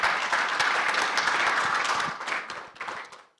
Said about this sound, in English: clap it out, man